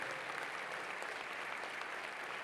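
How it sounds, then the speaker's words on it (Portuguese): Quiet, steady applause from a church gathering for the brothers and sisters who helped out, a dense wash of many hands clapping at an even level throughout. "vamos aplaudir os irmãos e as irmãs que ajudaram"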